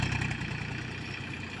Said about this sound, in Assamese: ট্ৰেক্টৰ আহি গ'ল, এতিয়া পুৰা আৰম্ভ লাগি গ'ল।